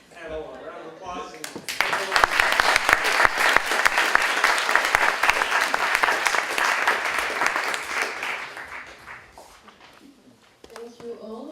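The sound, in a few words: audience applause for conference panel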